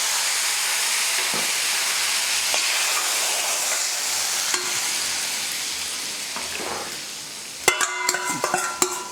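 Tempered mustard seeds are poured into a Kerala curry and stirred, giving a steady sizzling hiss that fades, then sharp crackles and spoon clinks near the end.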